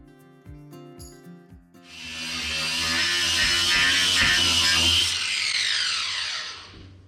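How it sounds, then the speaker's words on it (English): Fiberglass on a boat hull being power-sanded makes a loud, steady abrasive roar for about three seconds. It starts after quieter handling noises and tapers off at the end. "This sanding fiberglass is"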